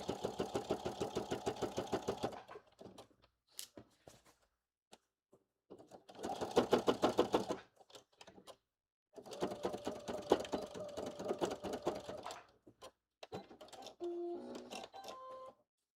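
A domestic sewing machine stitches a blazer pocket in several bursts of rapid, buzzing needle strokes, separated by short pauses and a few quiet handling clicks, close and fairly loud.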